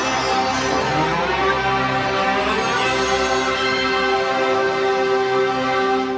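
PlayStation 3 startup chime: a steady, loud synthetic tone with layered sustained harmonics and a slight rising swell midway, playing on its own without voices.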